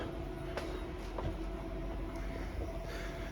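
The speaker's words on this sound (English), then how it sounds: "So tonight's train is run by ZSSK, which is Slovakia's national operator." A Slovak ZSSK sleeper train stands at a station platform at night. A steady low rumble and hum holds throughout, broken by a few faint clanks and knocks, with no voices.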